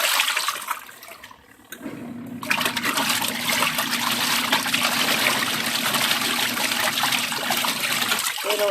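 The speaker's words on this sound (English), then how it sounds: "It'll agitate in both directions." A Homeleader twin tub portable washing machine churns water in a steady, loud sloshing rush after a quieter start, continuing evenly for several seconds with a faint mechanical hum underneath.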